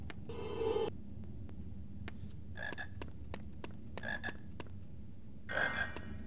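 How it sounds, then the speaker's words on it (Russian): A toad croaking in a Harry Potter and the Philosopher's Stone video game, four short raspy croaks spaced a second or so apart over a faint game background with light ticking. "А вот и жаба это была."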